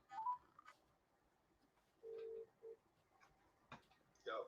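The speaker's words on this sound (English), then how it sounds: "Let me just phone Spencer now" Telephone dialing tones sound as a call is placed, a few separate beeps of differing length spaced across quiet moments, with soft faint background noise between them.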